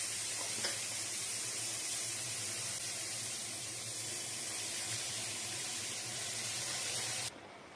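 Fresh spinach dropped into a hot pan of sautéed onions, giving a steady, loud broadband sizzle and hiss that holds evenly for about seven seconds, then cuts off abruptly near the end.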